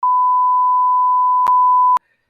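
A censor beep blots out a word in a podcast conversation: a loud, steady electronic tone of about two seconds that cuts off abruptly, with no voices over it.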